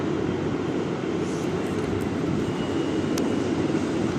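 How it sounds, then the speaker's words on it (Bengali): A metro train pulls into Jai Hind metro station, which serves the airport, on its first run: a steady, loud, broad rumble and hiss of wheels and motors, close by and continuous, with a few faint high squeaks and no talking. "ফার্স্ট মেট্রোটা আসছে।"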